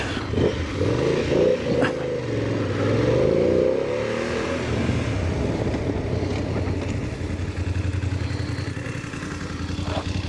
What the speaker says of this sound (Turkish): Gazı kapatacağım, debriyajı sıkıp arka fren kullanacağım.